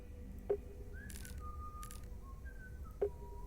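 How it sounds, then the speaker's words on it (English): A faint, thin whistled tone in a video game drifts in short wavering phrases over a low rumbling ambience, with two soft thuds spaced a few seconds apart. "Oh, I hear the whistling."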